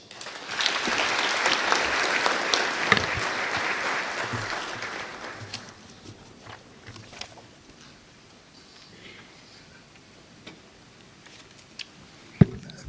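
Audience applause following a government budget preparation launch, loud dense clapping for about five seconds that tapers into scattered claps and quiet room noise, with a sharp knock near the end.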